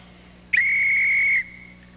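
A single steady whistle blast lasting about a second, loud and close, on a children's Halloween show, alone with no talking.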